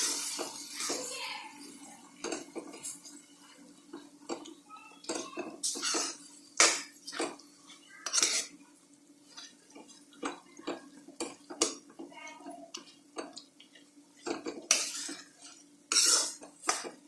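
Boiled rajma kidney beans, drained of their water, are pressed and mashed in a kitchen. A utensil makes soft, irregular clinks, scrapes and squishy taps against the pot or pan, quiet and close, with bursts spaced apart.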